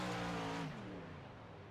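Racing truck engine in the iRacing Wild West Truck Series sim, a loud revving drone that sweeps down in pitch and fades slightly after the first half second, heard alone.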